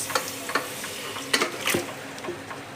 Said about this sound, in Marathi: आता मटण छान याच्यामध्ये मसाल्यामध्ये परतून घ्यायचं आहे